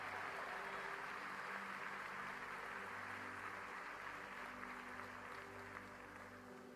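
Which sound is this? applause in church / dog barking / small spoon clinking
applause in church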